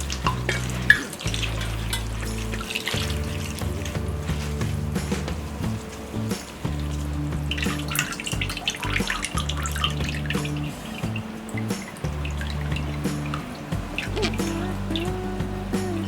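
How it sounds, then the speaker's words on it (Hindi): Grated potato being rinsed in a strainer under a running tap, a steady rush of water with splashing and drips, continuous and close, with a tonal hum underneath. "हमने इसे ये स्ट्रेनर में रख लिया है और इसे फिर वॉश करेंगे"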